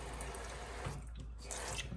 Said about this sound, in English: Maybe I'll just add a little bit more water